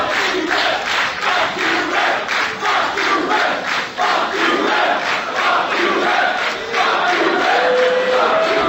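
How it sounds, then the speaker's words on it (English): A loud, dense wrestling crowd at an AIWF show in Singapore jeers and shouts at the referee, a continuous roar of massed voices with rhythmic chanting swells throughout. "The Singapore crowd having a go at the ref"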